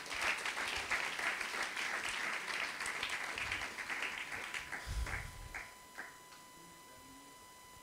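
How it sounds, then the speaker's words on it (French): Church congregation applauding during a sermon, sustained dense clapping that fades toward the end, with a steady tone and faint ticks lingering after it dies down. "On applaudit le Seigneur pour ça."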